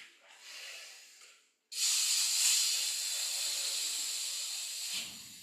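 A voice imitates hissing air like a cat's hiss: a short breathy hiss, a brief pause, then a longer, louder sustained hiss close to the microphone.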